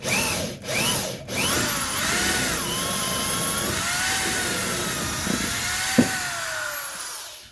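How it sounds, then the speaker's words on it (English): A power drill bores steadily through a broken cylinder head bolt on a 1994 Chevrolet Camaro, with a continuous whining grind and a couple of brief stops near the start. "See how much quicker it is to drill a hole once you actually have a pilot hole."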